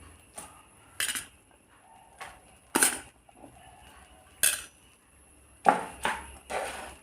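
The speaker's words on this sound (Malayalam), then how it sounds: "നന്നായി ഇളക്കി കൊടുക്കാം." Spoon clinks and scrapes against a pan in sparse, irregular bursts as cooked rice is stirred for Tamil Nadu style lemon rice, with quiet pauses between the strokes and no voices.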